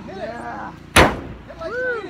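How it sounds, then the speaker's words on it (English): People take turns whacking an upside-down van at night, one sharp loud metallic bang in the middle, with cheering and voices before and after it. "Everybody's given a whack at the van that's upside down."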